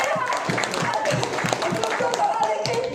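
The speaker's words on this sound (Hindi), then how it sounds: "तालियां बजाओ उसके लिए" A crowd claps steadily and loosely throughout, a dense patter of many hands close by, with a voice speaking over it.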